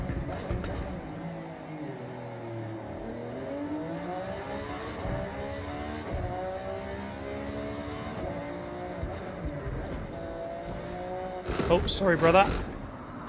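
A Lamborghini engine in Forza Horizon 6 holds a steady, droning note with rising and falling pitch, then a louder revving surge near the end, with a voice talking over it.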